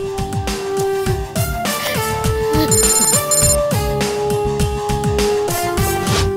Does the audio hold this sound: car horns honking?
no